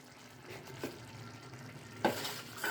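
Soaked, pressure-cooked dried peas for ghugni are stirred and fried in a pan, giving a soft, steady sizzle with a few scraping stirs of the spoon that grow louder toward the end, quiet and close.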